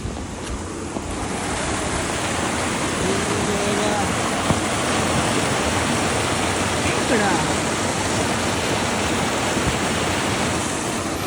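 Falling water roars in a dense, steady rush that fills the whole span, near and loud, with faint scattered sounds buried underneath.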